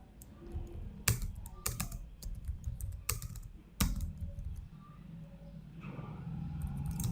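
Typing on a computer keyboard while creating a text file in Ubuntu, with scattered key clicks and a few sharper strokes, fairly close, over a low background hum; no talking.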